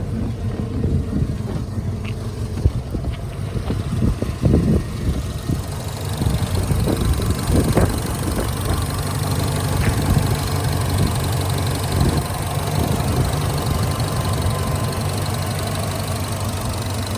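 A 1972 Ford Bronco with a fresh 302 EFI V8 idles steadily and close, a low, even rumble with a faint rhythmic knock and mechanical chatter running unbroken throughout.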